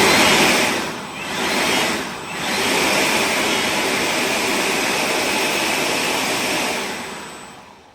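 A Stubby Fan V1 electric ducted fan on a 22 V supply screams steadily at close range, a loud broadband jet-like whine with a thin high tone, briefly dipping twice near the start before holding full power and easing off at the end.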